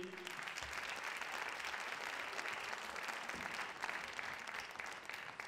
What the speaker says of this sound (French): Vous l'applaudissez, s'il vous plaît.